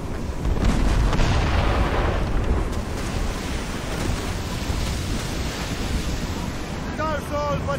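Naval mortar fire at sea in the video game Assassin's Creed Rogue: loud booming blasts and rumble over heavy wind and crashing surf, with roaring noise throughout and a faint voice near the end.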